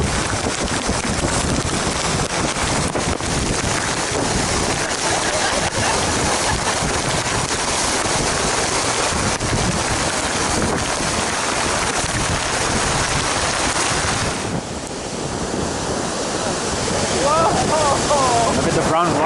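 Roaring whitewater of rapids on the Colorado River during a rafting trip through the Grand Canyon, a loud, constant rushing wash with wind buffeting the microphone throughout.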